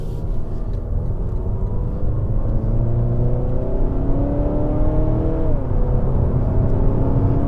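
A revised Mazda 6 with a 2.5 litre engine accelerates from inside the cabin, a steady loud drone rising smoothly in pitch, easing briefly as the gear changes and then climbing again.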